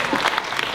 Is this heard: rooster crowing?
no